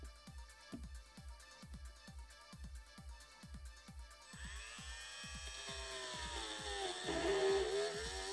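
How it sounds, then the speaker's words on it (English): A Dremel rotary tool shaves down the plastic cover and faceplate of RHA T20i earphones: quiet rhythmic thumps at first, then the tool spins up into a rising whine that grows louder and changes pitch as it cuts. "we do have to use a Dremel to shave down very just a bit of it"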